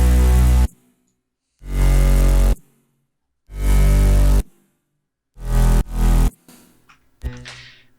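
Electronic dance track drop built from heavy layered basses and piano, hitting in four or five loud chopped bursts separated by silent gaps, ending in a short reversed swell.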